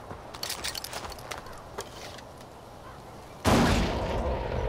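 A grenade goes off in Far Cry 4 after a stretch of scattered gunfire-like clatter, bursting suddenly into a loud, sustained blast that lingers.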